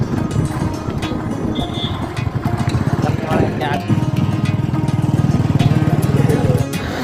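A brother's motorcycle riding along on a trip to a Botad market, its engine putting out a steady close drone and rumbling throughout, with wind buffeting the microphone and the engine note swelling toward the end.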